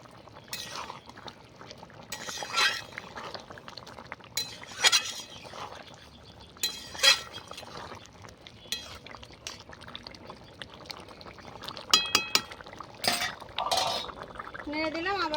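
Beef curry stirred in a metal pot over a clay stove, with repeated clinks and scrapes of a spoon against the pot scattered through a low background hiss, no voices.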